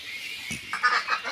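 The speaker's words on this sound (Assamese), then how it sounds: "এয়া মোৰ হোৱাইট পেকিং হাঁহ" White Pekin ducks on a duck farm at dusk give a few short, nasal quacks in a quick cluster, moderately close over a soft background hiss.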